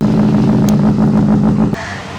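A Benelli motorcycle fitted with a loud 300 mm exhaust roars steadily and close for about two seconds, then cuts off abruptly.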